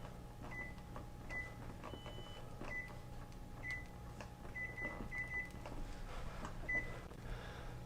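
An oven timer is keyed in, giving a series of short, high electronic beeps at irregular intervals, some in quick pairs and triplets, faint over a low kitchen hum.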